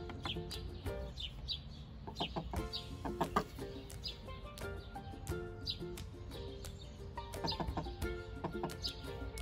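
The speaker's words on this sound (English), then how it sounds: "All the little chicks." Chickens and chicks in a garden cluck and peep repeatedly in short, irregular calls, close by and fairly faint, with no talking.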